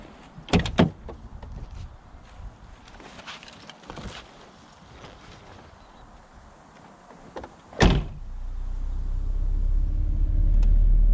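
Clunks and a sharp thud from a BMW E30 car door area, then a rising low rumble as a window slides closed, ending in a steady muffled hum.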